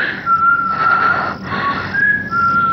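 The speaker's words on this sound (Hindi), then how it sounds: "ये वही सीटी है," A whistle blows in a stage drama, with sustained shrill tones in two long blasts separated by a short dip, loud and close over a hissy background.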